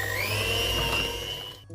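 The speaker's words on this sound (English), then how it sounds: "Use an electric whisk if you've got one like I've got here" An electric whisk whirs steadily as it beats egg into blondie batter, a loud continuous motor whine with a rising pitch that holds, then cuts off abruptly near the end.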